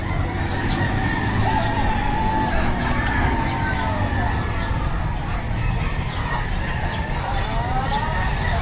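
Chickens and turkeys at a Bulacan bird market fill the air with steady clucking and scattered rooster crowing, a dense, continuous din of fowl heard up close with market noise behind.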